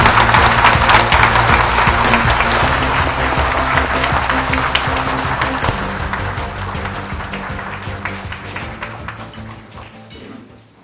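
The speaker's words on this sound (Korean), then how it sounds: "박수로 맞이해주시기 바랍니다" Sustained applause from an audience at a political party forum, dense and loud at first and then gradually thinning out and fading toward the end.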